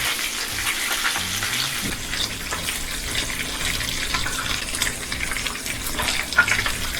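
Meatballs sear in a frying pan on a stove, a continuous close hiss and crackle of sizzling with occasional soft scrapes as they are turned, no voices.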